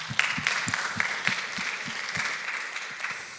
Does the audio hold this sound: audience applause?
yes